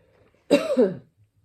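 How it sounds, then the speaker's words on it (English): A single harsh cough, close and loud, lasting under a second in an otherwise quiet room. "Excuse my coughing"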